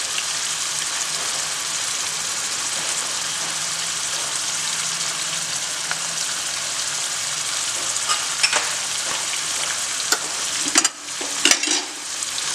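Spices and salt sautéing in a pan for chicken barra curry give a steady, loud sizzle throughout, with a few stirring scrapes and clatters near the end.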